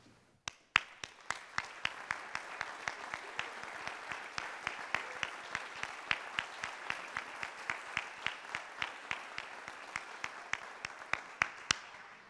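A college honors convocation audience claps for Dean's Honor Roll students, a steady crowd wash punctuated by sharp, rhythmic nearby claps that keep a regular beat for the whole stretch, with no talking.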